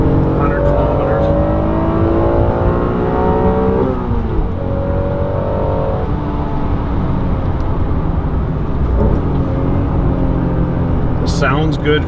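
Engine of a 1992 Acura NSX 5-speed coupe drones loudly from the cabin while driving at speed, its pitch rising and falling through gear changes, with a steady rumble and road noise throughout.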